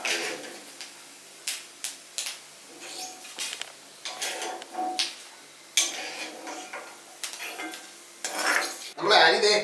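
Roasted rice scraped and scooped with a metal spoon from a pan into a bowl, repeated scraping clinks and rattles in an uneven rhythm, close and fairly loud, ending in a louder burst of clatter.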